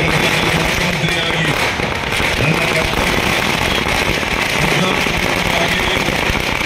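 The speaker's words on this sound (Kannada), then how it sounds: "ಕಾಂಗ್ರೆಸ್ ಕಾರ್ಯಕರ್ತರು ಪಟಾಕಿ ಸಿಡಿಸಿ ಸಂಭ್ರಮಾಚರಣೆ ಮಾಡಿದರು" Congress party workers set off firecrackers to celebrate a state swearing-in ceremony, producing a loud, continuous barrage of crackling bursts that stays dense and intense throughout before ending abruptly.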